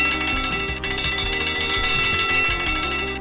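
A bell struck by a catapult in the Simon the Sorcerer point-and-click adventure game rings loud and dense, with a sharp onset near the start and sustained metallic ringing overtones layered over game music, continuing throughout.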